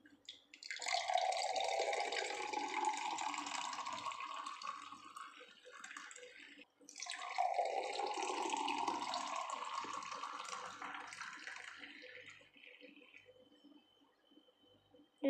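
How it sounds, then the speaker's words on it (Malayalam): Blended grape juice poured into a glass in two long pours, each a rising liquid gurgle that fills and tapers off, separated by a brief pause, close and clear with no talking. "നമുക്ക് അടിച്ച് വെച്ച ജ്യൂസ് ഗ്ലാസ്സിലോട്ട് ഒഴിക്കാം"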